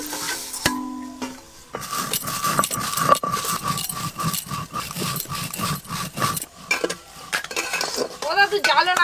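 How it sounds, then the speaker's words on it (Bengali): Roasted whole spices for mutton curry being ground by hand: close, rhythmic rough scraping strokes repeat for several seconds, followed by a short pause and scattered kitchen clatter. "এবার গুঁড়ো করে নেব।"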